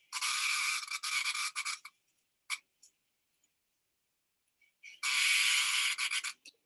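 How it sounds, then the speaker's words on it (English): A single cicada vibrating its tymbal in a loud, dense buzzing burst close by that runs nearly two seconds, breaks off into a few faint clicks and silence, then starts again just as loud and steady. "This is the tymbal vibrating."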